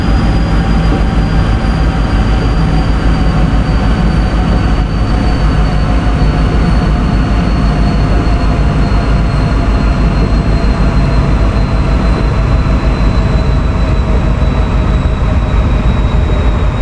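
A heavy PRR V2 Santa Fe Express train braking in a video game rumbles steadily with a constant broadband roar and a faint high whine, no voices, continuous for the whole stretch.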